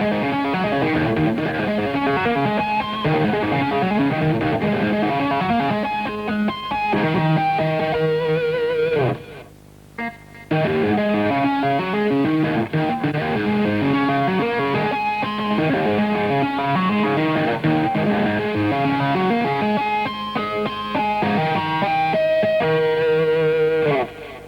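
Electric guitar plays tapped harmonics in a fast, dense, continuous run with a brief pause near the middle, with no talking.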